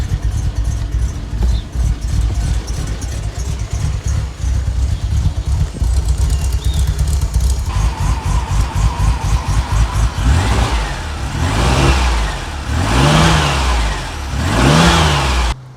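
A 2.8i engine in a Ford Sierra Mk1 Ghia 4x4 estate idles steadily, slightly uneven, then revs up in several rising and falling bursts toward the end, loud and close.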